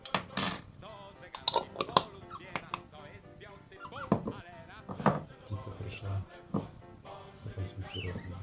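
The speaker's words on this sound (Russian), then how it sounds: "И перемешиваем." Ground pork lard is stirred with ground coriander and spices in a bowl, with scattered close scrapes and clinks of a spoon against the dish, irregular and fairly quiet, while a voice talks at times.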